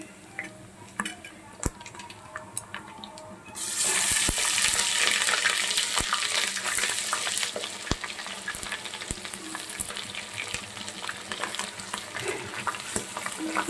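Ginger garlic paste hits hot oil with prawns, bursting into a loud, steady sizzle a few seconds in after quieter crackles and occasional sharp ticks, continuing close by with faint stirring.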